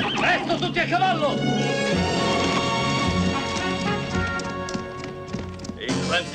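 Horses clip-clop at a gallop in an Italian-dubbed western film, rhythmic hoof beats under busy music and effects, with a brief voice near the start and end.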